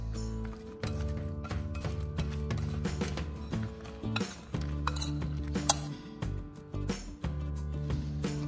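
A utensil mixing egg and onion powder in a bowl, making a steady series of clinking, scraping strokes against the bowl with brief pauses between them, close and fairly loud.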